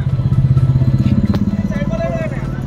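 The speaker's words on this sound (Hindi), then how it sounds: "वीडियो आपने देखी किस तरह से ट्रक के आगे मोटरसाइकिल लहराई जा रही है" A motorcycle engine thrums with a rapid pulsing beat while swerving in front of a moving truck on a road, loud and close, the rhythm steady then easing slightly.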